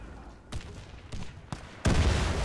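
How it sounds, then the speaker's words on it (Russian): Grenade thrown and exploding in Warface, a few sharp muffled bursts followed by a loud broad blast, with faint talk. "Кидаю гранату"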